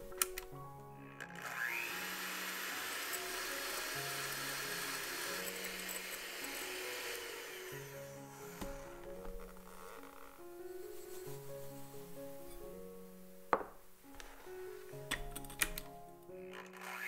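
Egg whites whipped with sugar for a strawberry shortcake sponge, an electric mixer whirring steadily and loudly throughout, with soft background music underneath and no talking.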